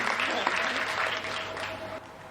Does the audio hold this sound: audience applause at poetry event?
yes